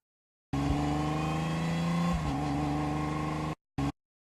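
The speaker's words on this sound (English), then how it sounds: "Car." A cartoon car drives by with a loud, close engine drone lasting about three seconds, its pitch dropping partway through as it passes, followed by a short burst of engine noise.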